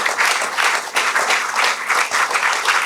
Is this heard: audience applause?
yes